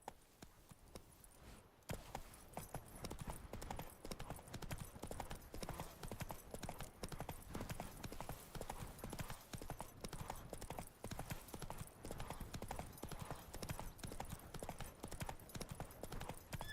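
Roach the horse in the Witcher 3 video game, with rhythmic hooves clip-clopping steadily after a brief quiet start, fairly close and quiet overall.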